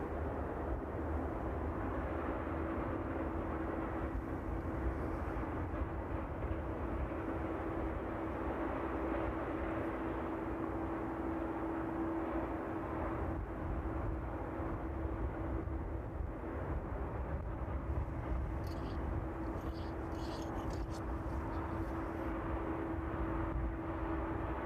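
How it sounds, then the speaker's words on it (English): A small twin-engine aircraft touches down at East Midlands Airport, heard as a faint, distant, steady engine drone with a low hum, partly hidden behind trees, continuous throughout with no talk. "Small twin power up aircraft just touching down behind the trees there."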